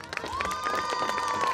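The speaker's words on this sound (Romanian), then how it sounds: "Haideți să-i aplaudăm!" Festival crowd at an outdoor celebration in Dărmănești cheering and clapping loudly and steadily, with shouts and a sustained high whistle-like tone running through the dense noise.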